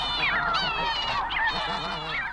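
Snow geese in an Arctic nesting colony give loud, overlapping nasal honks in a steady chorus, close and dense with no pause.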